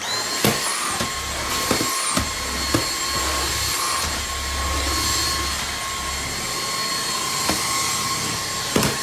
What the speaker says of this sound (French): Donc voilà, j'ai enfin terminé de tout aspirer.